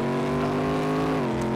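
The Rumbler GT muscle car in the Reckless Driver video game gives a steady, loud engine drone with a deep harmonic rumble, holding a constant pitch with a slight dip near the end.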